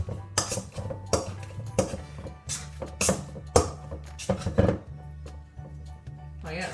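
Flapjack ingredients mashed with a masher in a dish, giving irregular knocks and clinks of metal against the bowl in short bursts, fairly quiet and close, with no talking.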